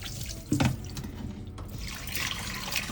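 Tap water runs over a fish being rinsed and cleaned in a kitchen sink, a close, steady splashing stream with small knocks and bursts of spatter.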